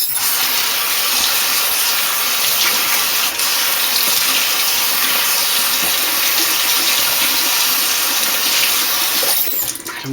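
Water gushes steadily from a tap while hair is rinsed, a loud continuous spray and splash that runs unbroken for the whole stretch before briefly shifting near the end.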